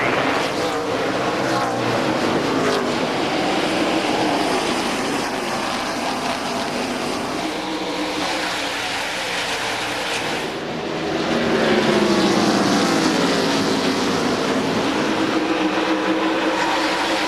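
NASCAR stock cars roar past in a continuous loud engine drone at a restart of the 2001 Sharpie 500, the pitch sweeping as the field comes through the final turn.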